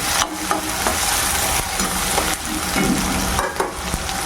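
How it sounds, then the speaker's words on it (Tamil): Curry leaves, green chilli and onion sautéing in an oiled pan after mustard and fenugreek seeds have popped, a loud, steady hiss with intermittent scrapes and knocks from stirring, close up. "கருவேப்பிலை, பச்சை மிளகா, அப்புறம் வெங்காயம் நல்லா வதங்கணும்"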